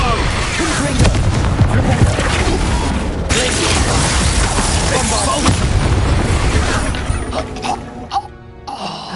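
Loud, dense bursts of explosive spell blasts from the video game Hogwarts Legacy, rumbling booms that fill the whole clip with a brief drop near the end, while a voice shouts spell names over them.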